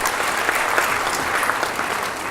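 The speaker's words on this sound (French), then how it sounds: "que je vous demande d'applaudir" Audience applause at an international colloquium of INSEPS in Dakar, a steady dense wash of many hands clapping at close range, continuous and fairly loud through the whole stretch with no talk over it.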